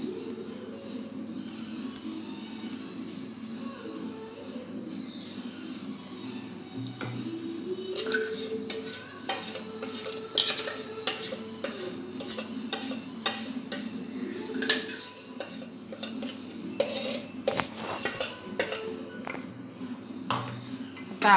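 Mixed dal and rice batter for appe being stirred in a steel bowl: repeated scraping and light metallic clinks and taps from the utensil against the bowl, growing busier and louder partway through, with a faint voice underneath.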